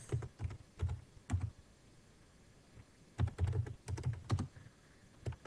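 Keys clatter on a computer keyboard as an IP address is entered, two short bursts of rapid, close taps separated by a brief pause, with no talking.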